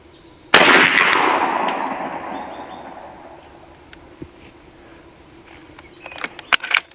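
A single sharp shot from a B&W Bin Tac M50 PCP air rifle firing slugs at an outdoor range, a loud crack with a long ringing decay, followed by faint distant birds and a few small clicks.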